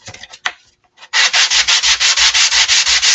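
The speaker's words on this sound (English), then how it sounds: "I'm gonna sand this one super quick." Sandpaper rubbing a round wooden door ornament: a few light scratches, then loud, steady back-and-forth strokes in a fast even rhythm, close and alone.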